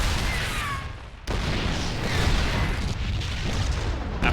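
Siege tanks shelling Protoss cannons in StarCraft 2, a dense continuous roar of heavy booms and explosive rumble, loud and close, with a brief cut near the start and no talking.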